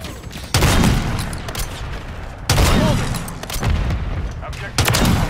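Heavy sniper gunfire in Call of Duty comes as three loud, close booms spaced about two seconds apart, each trailing off in a rumbling echo.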